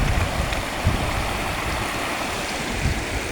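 A river with waterfalls near Mumbai rushes in a steady, full broadband wash of flowing water, close and continuous with no voices.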